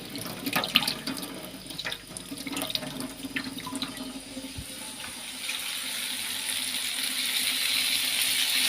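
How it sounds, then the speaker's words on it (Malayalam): Water from a well-fed pipe runs from a tap, beginning with clinks and handling noises, then settling into a steady hiss that grows louder and fuller toward the end, with no one speaking. "പൈപ്പിൽ നമ്മൾ കിണറിലെ വെള്ളം കഴിക്കും"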